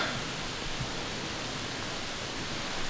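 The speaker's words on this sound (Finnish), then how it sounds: "Inarijärven sadetta." Heavy rain at Lake Inari pours down steadily, heard from a wilderness hut's porch, a dense, even hiss with no breaks and no voices.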